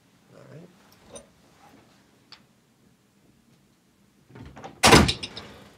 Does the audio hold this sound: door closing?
yes